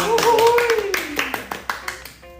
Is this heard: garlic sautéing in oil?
no